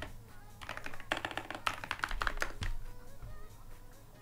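Quick, irregular bursts of typing on a computer keyboard, soft close clicks coming in clusters with brief pauses, nobody talking.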